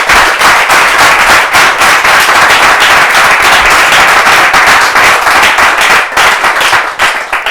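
Loud, continuous audience applause on a French talk programme, dense claps sustained throughout with a few sharp individual claps standing out, no voices.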